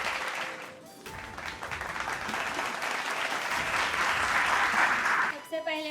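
Audience applause fills a Hindi-language success-felicitation ceremony for excise constable candidates at a coaching institute, steady and dense for several seconds before tapering off near the end.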